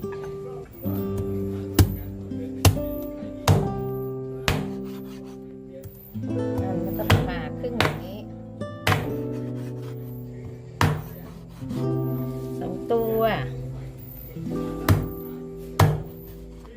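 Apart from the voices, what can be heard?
knife chopping catfish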